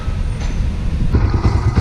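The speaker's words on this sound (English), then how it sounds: "I've started the engine and I'll let it idle for around 5 to 10 minutes" A car engine idles just after fresh coats of Bosny high-temperature spray paint, giving a loud, steady low rumble with a faint irregular throb throughout.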